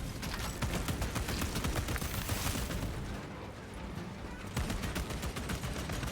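A bolter fires in rapid, dense bursts in Space Marine 2, making loud continuous gunfire that drops off briefly mid-clip and then resumes.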